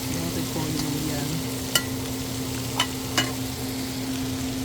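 Cabbage frying in a pan for chicken pancit bihon gets stirred, a steady sizzle and hum under a few sharp scraping taps of the utensil against the pan, with no talk.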